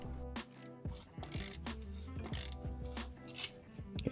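A ratchet backs out stiff, long-unremoved T30 screws from the shroud under a Mini Cooper S, giving rapid close clicking bursts with short pauses between them.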